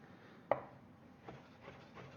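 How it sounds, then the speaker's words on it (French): A knife cuts fresh tagliatelle pasta dough by hand into thin strips on a board: one crisp, close chop followed by two softer cuts, in a quiet room. "Coupé fin à la main comme ça."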